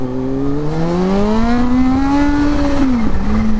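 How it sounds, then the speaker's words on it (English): A Kawasaki Z H2 motorcycle pulls a wheelie in first gear, its engine note climbing steadily and loudly through the revs with a brief dip near the end. The exhaust is heard up close, with no talking. "let's pull another wheelie here, but I gotta be careful. Let's do it in first."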